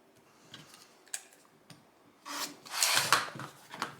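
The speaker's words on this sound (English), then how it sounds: "then we will trim off that little corner piece" Trimming a small corner piece off a sewn Indiana Puzzle quilt block along a ruler, heard as faint scraping and cutting strokes with light taps, building into a louder rasping stretch near the end, with no talking.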